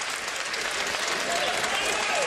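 Ringside boxing crowd applauding boxer Fred Kassi after a one-punch knockout by Amir Mansour, a steady, dense clatter of clapping throughout.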